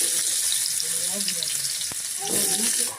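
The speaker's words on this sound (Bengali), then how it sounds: "আলুগুলোকে ছেড়ে দেবো সয়াবিন তরকারি যে আলু দিয়ে করবো আলুগুলোকে সব ভেজে নেবো সুন্দর করে" Potatoes frying in oil for a soybean curry, a loud continuous close sizzle lasting the whole moment with a brief tap in the middle and no talk.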